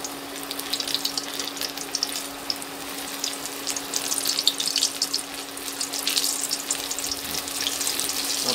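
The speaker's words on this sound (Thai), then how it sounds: "ก็น้ำมันเราร้อนแล้วนะครับเราก็ทอดเลยที่เขาอยากป๊อปเมื่อกี้นะครับ" Chicken tendons, popcorn-style, deep fry in hot oil at medium heat, a close, continuous crackling sizzle with steady fine popping and no voices.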